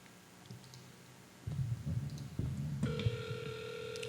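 After a few clicks, a phone ring tone begins, a steady electronic tone up close over low handling noise.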